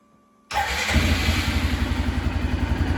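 A vehicle engine cranks and catches after a half-second of quiet, then settles into a loud, close, steady idle with a rapid rhythmic pulse while jacked up with rear wheels off the ground in two-wheel drive, checking for a faulty speed sensor code.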